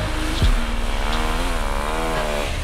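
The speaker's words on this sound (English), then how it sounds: "Now let's have a look how snow bikes can manage a steep hill." A motorbike fitted with a snow track kit climbing a steep snowy hill, its engine a loud, close, buzzing drone that rises and wavers in pitch under load.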